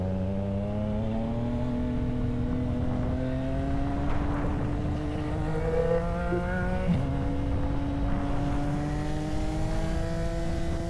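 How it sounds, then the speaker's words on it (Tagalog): A supercharged Kawasaki Z H2 motorcycle engine climbs steadily in pitch through its revs, drops briefly at a gear change, then rises again, sustained and moderately distant. "Ganda ng tunog ng bike niya. Naka-turbo pa naman eh, supercharged."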